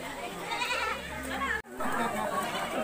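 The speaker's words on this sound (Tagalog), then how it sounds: "May kambing." A goat bleats at a honeybee farm in Balete, Batangas during a birthday gathering, a few wavering cries at moderate distance under steady chatter and voices.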